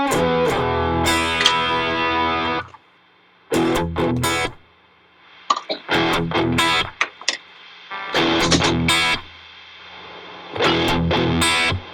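Electric guitar played through an Old Blood Noise Excess V2 distortion pedal, loud fuzzy chords and riffs in several separate bursts with short silent gaps between them.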